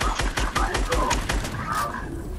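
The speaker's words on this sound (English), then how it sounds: "I'm gonna shoot" Gunfire in the video game Fortnite: a rapid, evenly spaced string of loud shots fires for about a second and a half, then fades into game noise as a voice talks over it.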